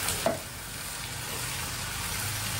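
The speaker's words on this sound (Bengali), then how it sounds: "এটার মধ্যে একটু পানি দিই, এটা কষুক, এটাকে কষাবো" Home-cooked Bengali curry, with a little water added, cooks down in a pan with a steady, close sizzle and bubbling, broken by a brief knock of the stirring utensil near the start.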